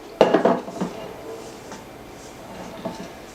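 A spatula scrapes and knocks against a bowl while stirring strawberry cupcake frosting, a few clattering strokes up front and then quieter stirring.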